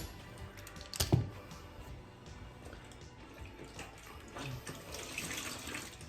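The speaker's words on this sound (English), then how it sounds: "wet this towel again, so straight back into the bucket to wet it off" A towel is dunked and swished in a bucket of water during carpet seaming, a brief splash followed by faint trickling and dripping, quiet and close.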